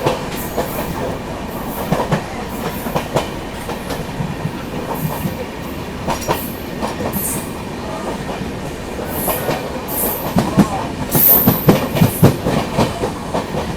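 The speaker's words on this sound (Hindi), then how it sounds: "ये क्रॉसिंग होने वाली है गुवाहाटी सिलचर एक्सप्रेस के साथ" A Guwahati Silchar Express train passes at a crossing in a scenic valley, its steady clickety-clack rolling close and loud, with occasional wheel squeals and no voices.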